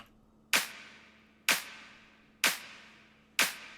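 Four sharp claps with short reverb tails, evenly spaced about one second apart, over a faint low hum.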